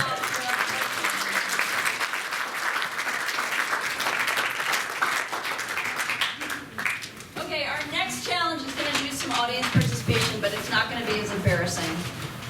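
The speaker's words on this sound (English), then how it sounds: "A round of applause for" Audience applause at a comic convention quick-draw event, steady clapping from a crowd, with people talking and calling out over it in the latter half.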